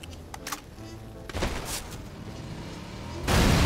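A vehicle blows up in a video game with several sharp bursts and booms, ending in a heavy, sustained roar of blast noise.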